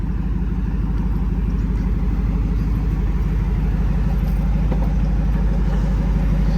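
A 1995 Chevrolet Camaro Z28's V8 rumbles at idle through dual exhausts, a steady deep throbbing pulse heard up close and unbroken for the whole stretch.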